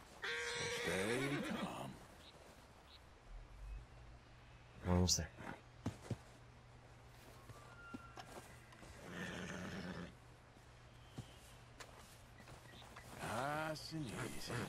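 A horse in Red Dead Redemption 2 whinnies near the start and again near the end, rising neighs over a low steady ambient hum, with a few brief knocks in the middle and someone talking between the calls.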